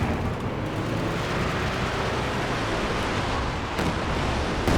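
Artillery shells from a 152 mm howitzer loaded with armor-piercing rounds pound a battlefield in the strategy game Company of Heroes 2, making a dense, continuous rumble of explosions and booms with no clear gaps and no talking.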